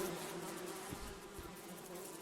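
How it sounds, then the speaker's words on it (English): Angry bees in the video game Above Snakes make a steady, fairly faint buzzing drone that continues without pause. "Yeah, the bees are angry."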